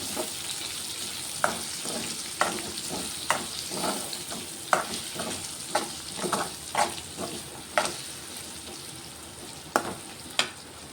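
Green chilies and onion frying in hot oil with ginger garlic paste for a spicy chicken fry, a steady sizzle broken by a dozen sharp scraping stirs of the spoon against the pan, close and moderately loud, no talking.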